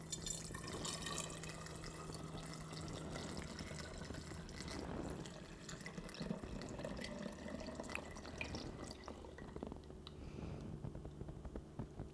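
Homemade ginger ale syrup poured through a small funnel into a bottle, a quiet, steady trickling and gurgling of liquid lasting several seconds, heard close and alone.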